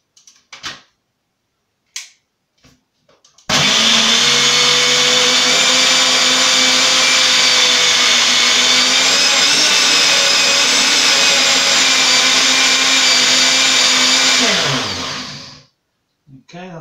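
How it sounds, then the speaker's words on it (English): A NutriBlend blender whirs steadily as it purées vegetables into soup, a loud, constant motor drone running for about eleven seconds after a few brief knocks, then spinning down to a stop. "add that into the vegetables, and then we blend that up into a soup"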